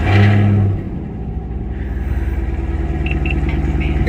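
A car engine revs hard and loud up close for about a second, drops back, then settles into a steady, throaty low rumble while the car pulls away on a drive, with no talking.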